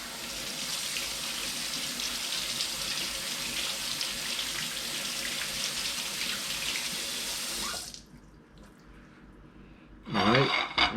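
Water runs steadily from a kitchen tap while bitter melon is rinsed, a loud continuous hiss that stops near the end before a brief splash of handling sounds.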